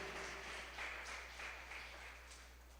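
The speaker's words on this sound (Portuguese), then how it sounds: "dá um aplauso ao Senhor por isso" A church congregation applauds together, a steady, moderately loud wash of many hands clapping that fills the short moment without any voice over it.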